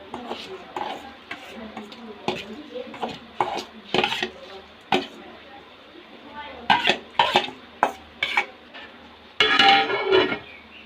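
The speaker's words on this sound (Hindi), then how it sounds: "उसके बाद ये चावल डालेंगे इसमें।" Rice is added to a pot with ground coriander and cumin, then stirred with a spoon, giving irregular scraping clinks and knocks against the metal over a faint sizzle, close and fairly quiet.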